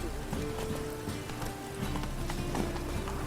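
Roach the horse gallops in The Witcher 3, hooves clip-clopping in a quick steady rhythm under a droning music bed, with faint voices mixed in.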